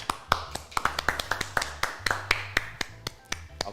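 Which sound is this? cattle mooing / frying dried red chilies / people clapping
people clapping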